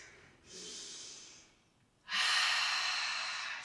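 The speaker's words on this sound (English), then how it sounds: "take 3 deep breaths" Two deep breaths during a children's yoga practice, a breathy inhale and a longer, louder exhale, close and clear with no talking over them.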